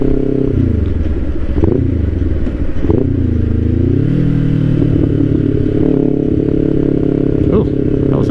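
Kawasaki Ninja 500 KRT SE motorcycle, a 2024 model, on a ride with a rough, badly timed downshift: engine pitch drops and surges with a clunk amid steady wind roar, a rider's voice partly over it.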